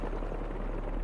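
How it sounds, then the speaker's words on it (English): A helicopter's blades throb in Marvel's Spider-Man 2, a low, steady rumbling pulse that is close and continuous, with no talking. "Something like helicopter's blades."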